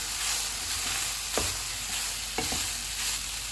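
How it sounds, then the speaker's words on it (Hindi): Onion and capsicum frying in a pan, a steady dense sizzle with two brief stirring scrapes of the spatula, no voices. "प्याज डालेंगे, शिमला मिर्च, इनको 2 मिनट तक पकाएंगे।"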